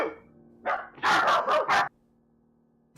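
A dog barks a few times in quick succession at close range during a tabletop role-playing game session, a short burst of loud yaps and woofs that stops abruptly into quiet room tone.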